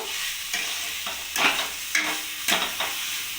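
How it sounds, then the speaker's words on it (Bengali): Potatoes and cauliflower being stir-fried with spices in a wok: a steady sizzle with scraping spatula strokes every half second or so, close and fairly loud, no voices. "আলু আর ফুলকপিটা আমি মশলার সাথে ভালোভাবে কষিয়ে নেব"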